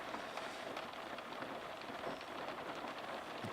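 Steady rain patters on the roof of a parked camper van in the early morning hours, a soft, even hiss of drops with no pauses or voices.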